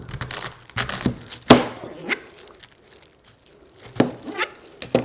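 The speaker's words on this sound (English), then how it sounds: "And now it's come to the cabbage. It's just like this, and I want to cut into 4. So let me slice." A knife cuts a whole cabbage into quarters on a board, giving a few crisp, crunchy chops and crackling leaf sounds separated by short pauses, close and fairly loud.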